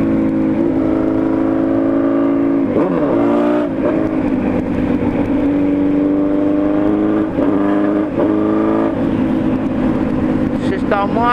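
A car engine revs hard while driving, with a loud continuous drone that rises and falls through gear changes and repeated bursts of acceleration, up close inside the vehicle.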